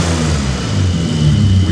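A BMW E34 running after its mass airflow sensor and idle control valve were replaced, a loud, steady engine drone held close with a low hum and no speech.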